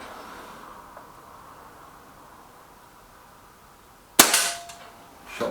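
A single sharp, loud crack of a Trimex Arms Elf S air gun firing at a target, after a few seconds of quiet room tone, followed by a brief ringing tail and a softer second knock near the end.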